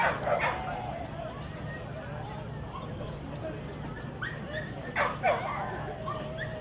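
A dog on an agility course yips and whimpers in short bursts over a busy outdoor hubbub, with people talking nearby.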